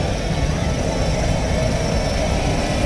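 Skydiving airplane engine droning loud and close in a steady, continuous roar with no pauses, heard alone.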